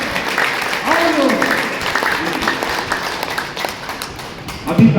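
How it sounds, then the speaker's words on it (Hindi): A large crowd at a family awareness gathering in Pathankot, Punjab, applauds loudly and steadily in a dense continuous wash, with voices murmuring underneath and a brief burst of talk near the end. "आपको जितनी जोरदार तालियां बजाना आता है उतनी जोरदार तालियां बजाना शुरू करो"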